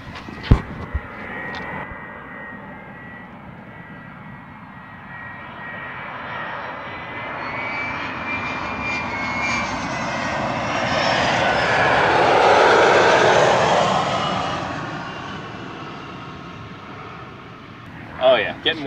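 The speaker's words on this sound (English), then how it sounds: "Oh, mandatory plane break." An airplane passes overhead at a flight school, its engine drone swelling steadily to a loud peak and then fading away over nearly twenty seconds, with a few brief knocks at the start and end.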